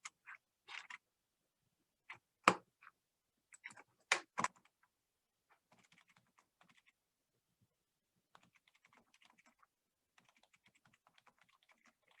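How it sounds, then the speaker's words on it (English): Someone types on a computer keyboard in short bursts of crisp, close key clicks at first, then only scattered faint taps in near silence. "this is quite as simple as just typing into the bio section in here"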